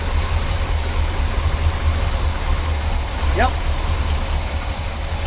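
Chevy 350 V8 running in a squarebody truck with a utility bed, a steady low idle rumble close by, with people talking over it briefly.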